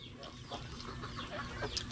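Chickens clucking nearby in short, repeated bursts, fairly soft and close, with some faint background noise.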